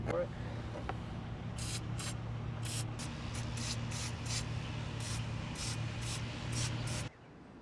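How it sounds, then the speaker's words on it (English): Bursts of aerosol lubricant spray onto a polyurethane suspension bushing, a dozen short hissing puffs in an uneven rhythm after a quiet start, close to the microphone, ending abruptly. "I'm going to show you how to spray it on there"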